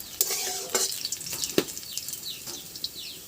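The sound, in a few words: onions frying and being stirred in a pan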